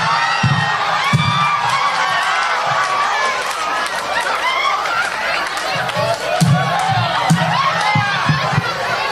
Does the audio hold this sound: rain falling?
no